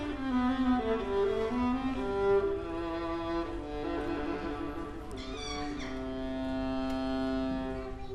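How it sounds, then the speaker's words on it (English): A viola played by a principal violist of a chamber orchestra draws sustained bowed notes in a slow, warm melodic line, close and clear with no talking. "This is a viola and it sounds like this."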